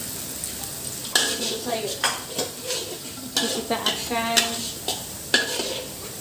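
Garlic frying in a pan for a chicken tomato dish, a spatula stirring and scraping in repeated strokes over a steady sizzle, close up, with a voice talking now and then.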